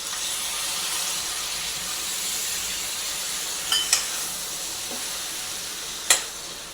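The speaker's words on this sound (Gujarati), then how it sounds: "હવે આપણે દહીં નાખી દઈએ." Okra curry sizzles steadily in a hot pan as yogurt goes in and is stirred, a broad constant frying hiss with a few brief clinks of the spoon near the end.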